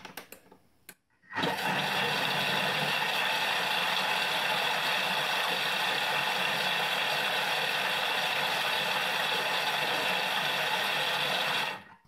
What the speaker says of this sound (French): on va encore une fois mixer 10 secondes à vitesse 5